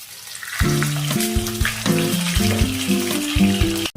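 Fish fry pieces frying in hot oil in a home kitchen as they are turned, a steady sizzle running under loud tuneful background music.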